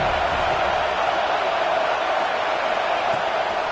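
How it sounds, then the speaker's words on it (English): A stadium crowd roars at Saban Field on third down, a dense steady wall of noise that stays loud and unbroken throughout. "Crowd rolling noise down onto Saban Field on third down."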